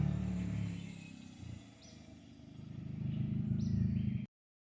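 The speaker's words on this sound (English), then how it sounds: "Here comes the car pulling in that we traded for it." A car, traded for a VW Rabbit diesel pickup, pulling in: a low engine rumble that dips, then swells as it approaches, with faint bird chirps above, cutting off abruptly near the end.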